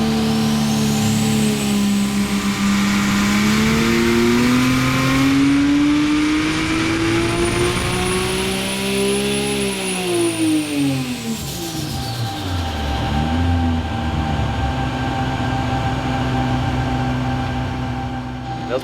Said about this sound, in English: let's go ahead and do a baseline run of 15 PSI, see what this engine makes, see what the turbo shaft speed is like